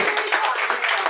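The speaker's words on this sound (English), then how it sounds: "Round of applause for you for coming out." An audience gives a round of applause at a launch event, a steady dense wash of clapping that stays loud and even throughout without a break.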